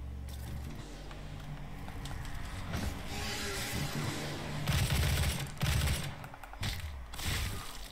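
Rapid gunfire bursts from the first-person shooter Doom (2016), loud and dense over a busy backdrop of game effects and rumbling, with heavier volleys in the later seconds.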